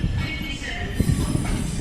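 A Class 66 diesel freight locomotive hauling wagons accelerates through Newcastle Central station, a low rumbling engine drone with wheel noise and faint metallic squeal, steady and moderately close.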